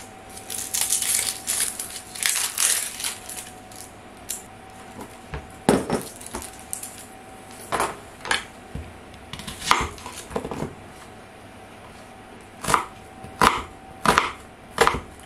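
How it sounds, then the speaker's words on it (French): A knife chopping onions into small pieces on a board, irregular close thuds and taps in short clusters with pauses between, recorded in a quiet kitchen with no talk. "je vais couper en petits morceaux"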